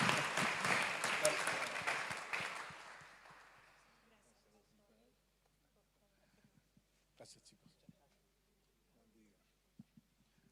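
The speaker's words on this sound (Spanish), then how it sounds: "Un aplauso." A church congregation bursts into loud, dense applause that fades away over about four seconds, leaving near-quiet broken by a few faint scattered sounds.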